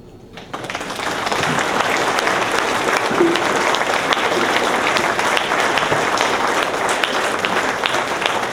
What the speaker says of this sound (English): Will all please rise in giving a large round of applause for our parents and teachers